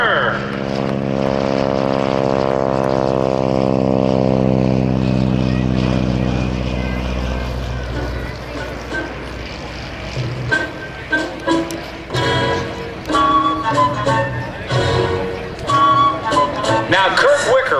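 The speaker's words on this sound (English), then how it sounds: "Now Kirk Wicker will shove the throttle forward." Propeller airplane engine at an air show with a wing walker aboard, a loud droning tone that sweeps as the plane passes, then fades under crowd noise and an announcer speaking over a PA.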